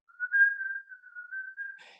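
A single person whistles a classical melody from Fritz Lang's film M, one clean sustained tune with small pitch wavers, heard alone and close, ending in a brief breathy noise.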